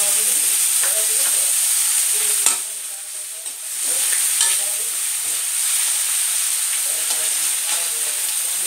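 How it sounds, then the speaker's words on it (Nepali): Sliced onions fry in hot oil in a pan for fish curry, giving a steady close sizzle broken by occasional scraping stirs, with no voice over it. "अब एकछिन यसलाई फ्राई गर्नु, ब्राउन हुने गरी,"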